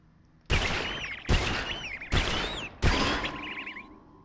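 Four sharp shots from a weapon in LittleBigPlanet fired at a Flappy enemy, each a sudden loud burst with ringing whistly tones trailing off, spaced roughly evenly, with no speech.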